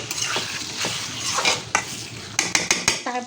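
Beef is tipped into a pot of cooked-down masala for chickpea biryani. It sizzles loudly while a metal spoon stirs and scrapes, with a few sharp clinks against the pot near the end.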